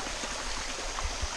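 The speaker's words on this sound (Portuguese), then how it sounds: "Ó, a cachoeira nervosa." Rio dos Bugres waterfall in Rio Negrinho, Santa Catarina, heard as a steady, broad rush of falling water up close, with a couple of low thumps partway through.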